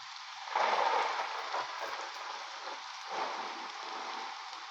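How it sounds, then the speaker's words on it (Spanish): Steady rain falling, a broad hiss with soft swells of heavier patter, moderate and even throughout with no voices. "Ahí les va la lluvia."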